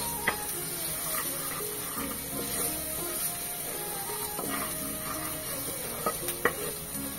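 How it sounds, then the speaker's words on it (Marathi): Masala spices with a little turmeric powder dry-roasting in a pan over a low gas flame for a mixed vegetable bhaji, a soft steady sizzle with occasional scraping stirs and light clinks of a spoon against the pan. "गॅस मंद ठेवून छान पैकी असं मसाला भाजून घ्यायचा."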